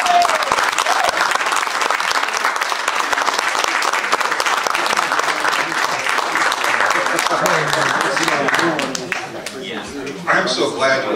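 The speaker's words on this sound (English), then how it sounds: "I'm so glad you all applauded." Loud, continuous audience applause fills the room after a live song performance, dense clapping that fades slightly near the end before a brief surge.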